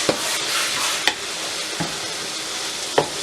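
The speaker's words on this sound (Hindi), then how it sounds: "ताकि ये मसाले इसमें अच्छी तरह से मिक्स हो जाए।" Spices being stirred into a sizzling pan while cooking lasagna for a large batch, a continuous frying hiss broken by a few sharp scraping clacks of the spoon, no talk.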